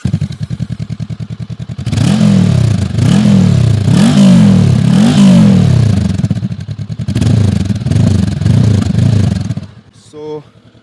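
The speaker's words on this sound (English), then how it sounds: "So let's first hear the exhaust note." A Honda NX500 motorcycle engine revs loudly in repeated throttle blips, deep exhaust burbling rising and falling, then settles before cutting off.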